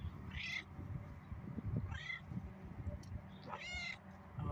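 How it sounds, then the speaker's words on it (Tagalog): A cat calls from up in a tree, giving three meows spaced a couple of seconds apart over a steady low rumble of outdoor background noise. "May pusa sa taas ng kahoy."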